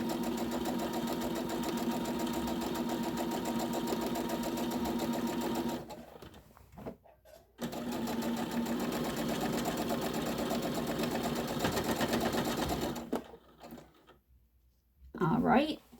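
A sewing machine stitches a tote bag in long, steady runs of close motor hum, broken by two short pauses, with a voice talking intermittently over it.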